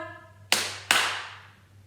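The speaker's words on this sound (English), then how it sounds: "Did your hands clap a little bit quicker?" Two crisp hand claps land in quick succession, marking a pair of beamed eighth notes, dry and near with short reverberant tails over a low background hum, and no one speaks.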